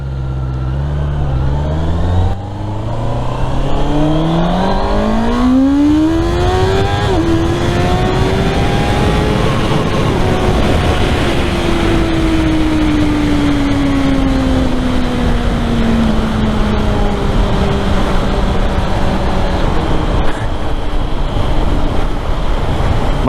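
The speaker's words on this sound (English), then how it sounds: "so hopefully you guys could hear it a little bit better, the engine noise" A Honda CBR650R motorcycle engine climbs in pitch through the gears to a high whine, then settles into a long, gradually falling drone under heavy wind rush while riding with a group.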